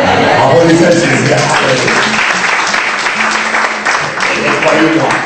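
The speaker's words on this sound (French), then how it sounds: "Applaudissez Jésus." A church audience applauds steadily and loudly, with voices shouting and singing over the clapping throughout.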